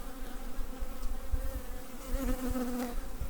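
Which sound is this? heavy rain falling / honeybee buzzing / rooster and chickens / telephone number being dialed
honeybee buzzing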